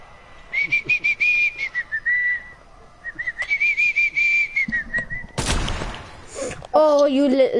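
A person whistles repeated bright tunes close to the mic during a Fortnite duos match, with bursts of gunfire and game effects cutting in, then a rising whistled phrase at the end.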